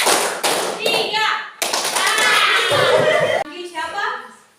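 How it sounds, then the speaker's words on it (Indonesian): Schoolchildren in a classroom clap in a counted call-and-response pattern, sharp bursts of claps separated by short pauses, with children's voices chanting and a teacher speaking between the rounds. "Tepuk 1, tepuk 2, tepuk 3, tepuk 2,"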